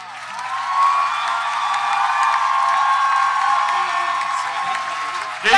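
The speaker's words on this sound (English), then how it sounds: "big round of applause for these guys" Applause and cheering from a comic convention audience after a live Avengers radio play, a steady wash of clapping and scattered whoops sustained for several seconds with a louder burst at the very end.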